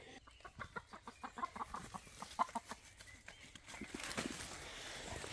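Chickens cluck in a short, rapid series of quiet calls in a farmhouse paddock, fairly close, followed by a softer rustling hiss.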